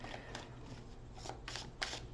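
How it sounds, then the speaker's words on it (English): A deck of tarot cards is shuffled in soft, papery riffles and slides, faint and close, with several short bursts over a low steady hum. "One more shuffle."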